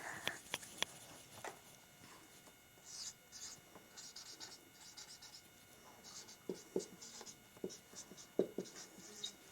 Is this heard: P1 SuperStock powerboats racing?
no